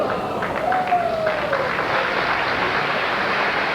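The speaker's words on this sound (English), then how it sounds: "Round of applause for Marshall Holman" Crowd applause at a 1986 Greater Los Angeles Open professional bowling tournament, a steady broadband wash of clapping from a large audience that holds evenly throughout, with a faint tonal whistle-like sound briefly rising over it.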